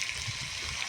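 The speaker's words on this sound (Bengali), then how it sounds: "এবার একটু জল দিয়ে দেবো" A little water is poured into a spice paste of turmeric, cumin and green chilli in a pan while making a fish curry. It makes a brief, steady hissing splash.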